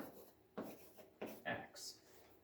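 Pen or marker writing out algebra working: a few short, close scratchy strokes in uneven bursts over faint background.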